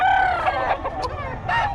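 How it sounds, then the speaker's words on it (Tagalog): Chickens at a poultry seller's, with a rooster crowing loudly and close, then a second drawn-out crow after a short pause, over soft clucking in the background. "magkano mga manok niya boss?"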